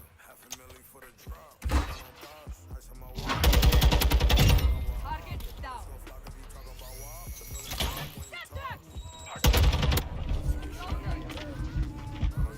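Loud gunfire in a video game, including sniper fire, comes in heavy bursts, one long volley early and another late, with sharp isolated cracks between, mixed with other game effects and a voice talking.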